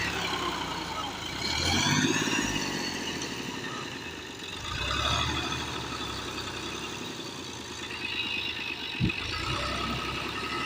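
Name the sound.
tractor engine running while stuck in mud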